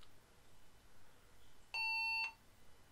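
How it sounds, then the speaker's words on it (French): A single electronic computer startup beep, steady and tonal, sounds for about half a second against quiet background hiss. "Ça bip."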